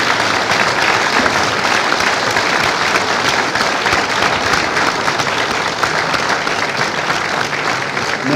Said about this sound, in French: j'aurais voulu qu'on fasse quand même 15 secondes d'applaudissement pour toutes ces personnes qui se sont données pour le football